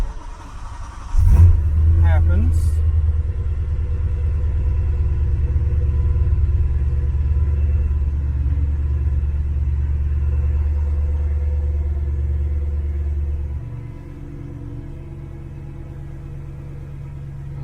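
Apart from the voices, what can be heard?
car engine starting and running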